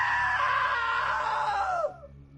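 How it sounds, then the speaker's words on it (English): A scream rings out in the What Remains of Edith Finch video game. It is a sustained, loud shriek that falls in pitch and then cuts off abruptly after about two seconds. "Now that was a great scream."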